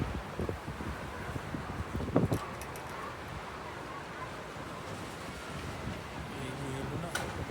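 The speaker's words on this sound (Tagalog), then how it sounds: "Grabe yung hangin ng snow, oh." Strong wind during a snowstorm in Kingston, Canada, blowing as a steady roaring rush with gusty surges and microphone buffeting, while a person speaks over it.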